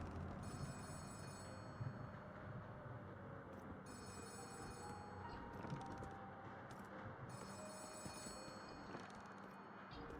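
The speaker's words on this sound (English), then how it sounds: "Why is the phone ringing?" A telephone bell rings in the video game Letter Lost, repeating in regular bursts over a steady low background hum, moderately loud and without any talk.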